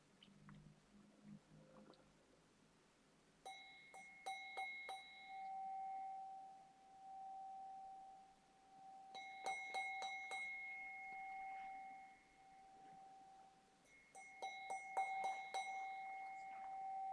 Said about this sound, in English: When I ring the bell, we can open our eyes and bring